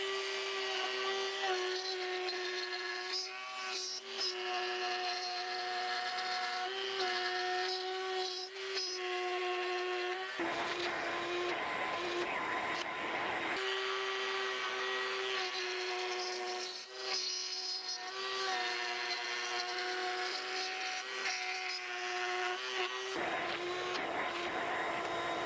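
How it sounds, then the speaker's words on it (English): Power router plunge-cutting a rosette channel into a guitar top near the fretboard area, a steady high whine with sustained tonal harmonics that drops out briefly twice as the tool is lifted, loud and close with no talk. "We're going to plunge over here where it's going to be hidden by fretboard, and then do our outer cut and then do our inner cut."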